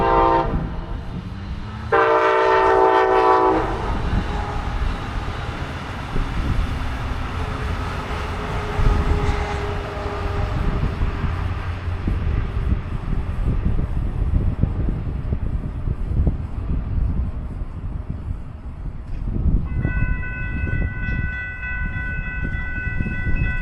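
A Brightline passenger train rumbles steadily past close by on a curve in Melbourne, Florida, a loud horn sounding at the start and again near the end over the continuous rolling clatter.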